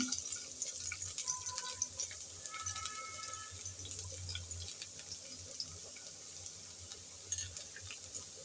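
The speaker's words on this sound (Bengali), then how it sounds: "তেল হালকা গরম হয়ে আসছে, সেই গরম তেলে দিয়ে দিলাম রসুন কুচি" Chopped garlic in lightly heated oil in a pan, a quiet, steady crackling sizzle that continues throughout, close and low in level, with no voices.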